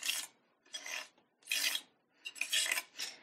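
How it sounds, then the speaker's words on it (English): Palette knife scraping excess paste off a stencil for card making: five short, dry rasping strokes, close and fairly loud, separated by brief pauses. "And I'm going to scrape off any excess."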